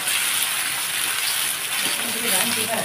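Potatoes fry in a little oil over high heat and are stirred nonstop, making a loud, continuous hissing sizzle close by with no break.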